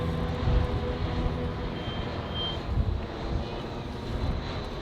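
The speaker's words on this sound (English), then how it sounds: "Look how low that airplane is." A low-flying airplane coming in to land, heard from a boat on a sunset cruise off Koh Samui: a steady broad engine roar with wind noise, fairly loud and continuous, no talking.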